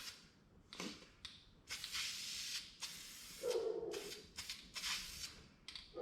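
Bursts of an aerosol spray can putting a light coat on parts being prepped after hail storm damage, several short hissing sprays with brief pauses between them, close and fairly loud.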